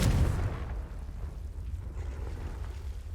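The Confringo spell goes off in the video game Hogwarts Legacy with a booming explosion at the start that trails into a low, rumbling decay.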